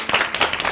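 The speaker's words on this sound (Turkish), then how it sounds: "bir alkış alalım arkadaşlar" Children's television programme studio audience clapping in short bursts, a brief patter of hands over about half a second, moderately loud with no voices.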